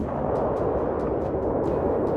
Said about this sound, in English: The building was destroyed in a massive explosion.